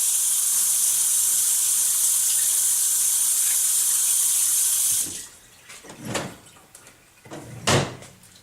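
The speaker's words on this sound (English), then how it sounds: "Before that, let me wash my hands." A kitchen tap runs steadily as hands are washed beneath it with a loud, even hiss of water, which cuts off abruptly, followed by a few nearby clunks and knocks.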